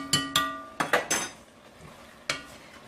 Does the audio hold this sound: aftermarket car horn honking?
no